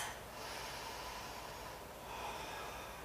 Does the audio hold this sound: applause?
no